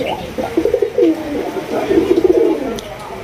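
Cooing from a pair of large Rajkolla pigeons, two rolling bursts of throaty calls close by, with quiet breaks between them.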